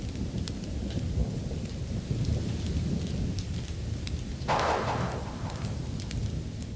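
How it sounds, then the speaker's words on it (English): Heavy rain pours steadily over soil with thunder rolling through it, a dense constant hiss with a louder rumbling swell near the middle, no voices. "Should the weather turn, rain hammers down onto the burrow opening."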